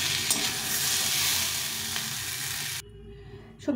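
Vegetables frying in oil in a kadai with a thick, steady sizzle and light stirring scrapes, cutting off abruptly to near silence before a final short clatter.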